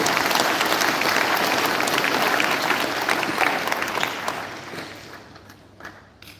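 Sustained applause from a congregation at a Marian Congress in a Catholic church in Nairobi, dense clapping filling the space and gradually thinning and fading toward the end.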